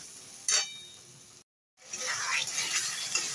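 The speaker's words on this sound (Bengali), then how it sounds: "মশলাটা ভালো করে কষিয়ে নিচ্ছি বেশ কিছুক্ষণ টাইম ধরে।" A spice paste of ginger, cumin, chili, salt, turmeric and tomato sautés in a pan with a soft, hissing sizzle. A brief clink of a utensil is heard near the start, and the sound cuts out for a moment partway through.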